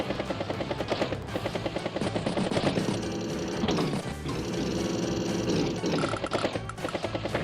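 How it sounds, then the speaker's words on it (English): Battlecopter attacking a rocket unit in the video game Advance Wars: a steady, loud mechanical rotor chatter with rapid rattling bursts of gunfire, pausing briefly before resuming. "Battlecopter strikes the rocket again and actually got 5 points of damage"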